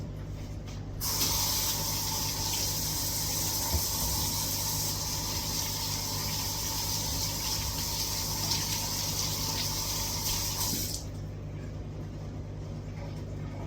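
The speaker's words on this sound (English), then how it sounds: "I give my hands a quick wash, and then we'll pop it in the oven." A kitchen tap runs hard for about ten seconds while hands are rinsed under it, a loud steady hiss of water that starts and stops abruptly, close by and with no talk.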